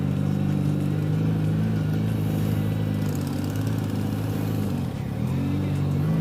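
Dense traffic at the San Ysidro border crossing, heard from a motorcycle: a steady, loud low engine drone from many cars and motorbikes idling and creeping forward, with a brief dip near the end.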